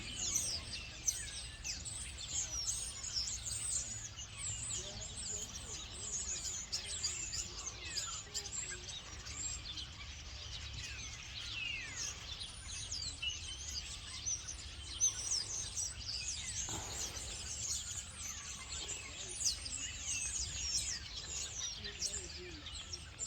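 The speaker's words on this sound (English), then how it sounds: "Loads and loads of birds up in the top of the tree, and as you in top of the trees, sorry, singing their heads off." Many birds chirp and sing high in the treetops on a winter walk in Madeley, Telford, a dense, continuous chorus of small calls, fairly faint and steady throughout, with no talk.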